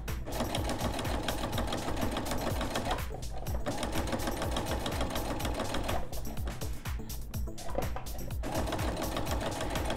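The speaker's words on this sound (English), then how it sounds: "I can be on my way sewing my half inch seam all the way around as I go." A sewing machine stitches a half inch seam around an oven mitt, its rapid mechanical needle chatter running steadily and loud up close, with two brief pauses where the stitching stops and restarts.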